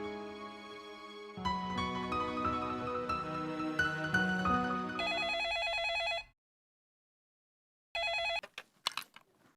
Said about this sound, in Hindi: जाके देखो किसका फोन है